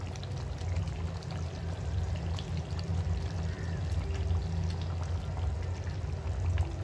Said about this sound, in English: now you add in your coconut milk